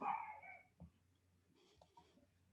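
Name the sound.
dog barking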